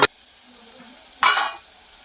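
Onions fry in a pan while roasted eggplant bharta is cooked, with a brief loud stir or sizzle near the start and another soft burst of sizzling about halfway through.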